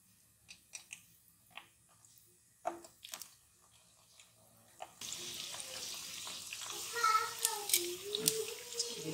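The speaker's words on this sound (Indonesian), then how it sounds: "Oke, saatnya kita goreng pangsitnya ya." Dumplings (pangsit) go into hot oil. After a few quiet knocks and handling sounds, a steady bubbling sizzle starts halfway through and carries on close by, while a voice can be heard now and then.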